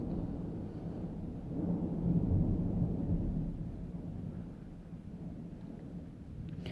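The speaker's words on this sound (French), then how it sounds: "Ah, il pleut aujourd'hui dehors." Rain falling outdoors with thunder, heard as a low, continuous rumble that swells in the middle and then eases off, faint and steady with no voices.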